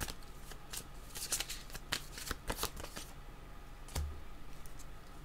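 Tarot cards are shuffled by hand, giving a quiet, steady papery rustle broken by quick crisp riffles and light clicks over a few seconds.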